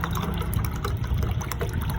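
Water pours steadily from a freshly opened young coconut (buko), a loud, close gushing splash that runs unbroken without pause.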